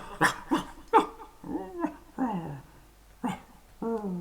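A dog whimpers, yips and growls in short uneven bursts, close and clear, as a sound effect in a spoken fairy tale. A voice may be imitating the dog.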